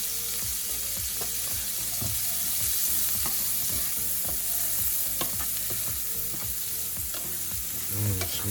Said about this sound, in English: let my margarine cook down, and I'm gonna throw in my vegetables